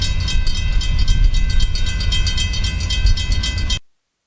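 Freight train 0730 rolls through Prairie Yard while switching, a loud steady rumble with rhythmic clicking of wheels over rail joints, close by, before cutting off abruptly.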